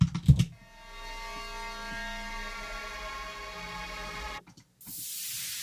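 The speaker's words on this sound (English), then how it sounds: "We got a sweep here." In a NiGHTS music remix, a synthesized sweep effect rises as a thin, steady tonal wash with a faint hiss. It starts after a brief burst, cuts out near the end, and is followed by a short burst of noise.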